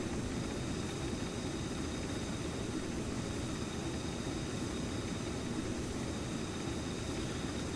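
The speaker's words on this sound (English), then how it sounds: "That is the Roc class ultra heavy lift helicopter" Roc class ultra heavy lift helicopter flying, a steady low rotor thrum and dense engine rumble that holds constant and fairly loud for several seconds, with no talking.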